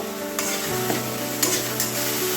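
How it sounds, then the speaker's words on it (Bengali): Bathua greens fry in a pan with a continuous close sizzle and a few spatula clinks and stirring scrapes over about two seconds, no talking. "এখন আমি শাকটাকে ভালো করে ভেজে নেব"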